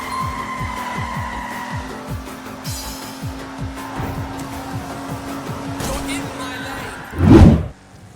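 Engines drone and tires skid in the car-combat racing game Wreckfest, with a sustained motor hum, a rapid ticking rhythm and a sharp loud crash-like burst near the end.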